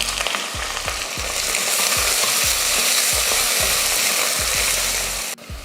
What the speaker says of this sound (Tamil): வெங்காயம் நல்லா கலர் மாதிரி வதங்கிடுச்சு.